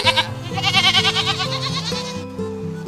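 Goats bleat while grazing, several overlapping wavering cries following one another in quick succession, close and loud with no talk over them.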